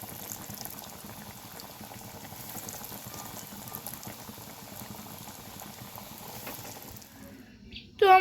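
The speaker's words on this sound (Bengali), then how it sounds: "বাদবাকি যে কাটলেটগুলো রেডি করা আছে সেগুলো এক এক করে তেলে ছেড়ে দেবো।" Beetroot cutlets fry in hot oil with a steady, fine bubbling sizzle that holds evenly for about seven seconds, then drops away abruptly before a short louder clatter at the very end.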